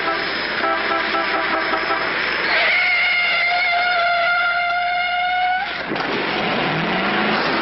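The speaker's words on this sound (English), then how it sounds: "Pretty reckless driving." A car driven recklessly in an animated 1952 film roars and revs with engine tones climbing and shifting, joined by honking horn-like tones, loud and close.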